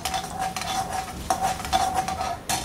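Urad dal and dried red chillies roasting in hot oil in a pan for coconut rice: a steady close sizzle with a spoon repeatedly scraping and stirring against the metal, with sharper clinks at intervals.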